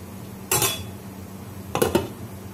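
A metal lid clanks onto a pot of boiling mutton curry, with one sharp clatter followed a moment later by a quick double clink.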